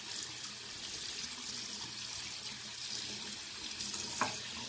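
A makeup brush being rinsed under a running tap, with a continuous, steady stream of water splashing into a sink, close and even throughout, with no talking.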